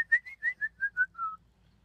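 A voice whistles a rapid string of about eight short beeping tones, slightly falling in pitch, mimicking a Star Wars droid's chatter.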